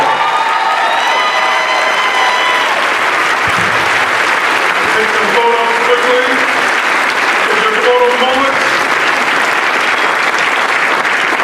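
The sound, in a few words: audience applause at a mayoral inauguration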